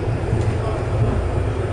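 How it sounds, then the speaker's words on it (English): Inside a train in Slovakia near Poprad, a steady low rumble and rattle of the carriage rolling along, with a faint voice underneath. "Train in Slovakia."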